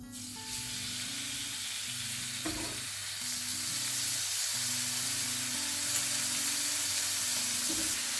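Steak pieces for pepper steak sizzle loudly in a hot pan, a dense continuous frying hiss with occasional crackles over a low hum, steady and close throughout.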